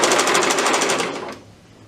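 A sewing machine runs a rapid, steady stitching burst while closing a plush teddy bear seam, loud and close, then slows and stops near the end.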